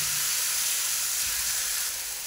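Rice flour batter for ghavne poured onto a hot oiled pan sizzles loudly and steadily, a dense continuous frying hiss close up.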